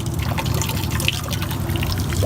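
Water pours steadily and heavily from a homestead rain water collection system, making a continuous loud gush and splash that runs without a break.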